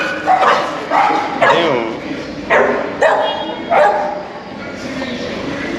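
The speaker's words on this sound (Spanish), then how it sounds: "Hay perros, no me dejan subir." Several loud dog barks ring out close by at irregular intervals in Sincelejo, Colombia, with a voice briefly speaking between them.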